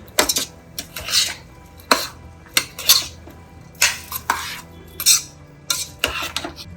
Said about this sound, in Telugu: మనం బియ్యం వేసేసుకుందాము ఇది కూడా ఒక్క రెండు నిమిషాలు వేయించుకుందాము